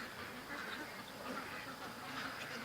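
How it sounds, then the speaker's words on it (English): Ducks quack faintly in a muddy yard, a soft, scattered chorus of calls heard at a distance with no talking. "But just one duck flying, freaking the rest out."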